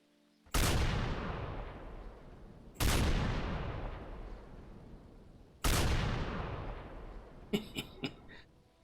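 Three loud, booming rifle shots from a modded Minecraft game, each followed by a long decaying echo, spaced a few seconds apart, then a quick cluster of small clicks at the end.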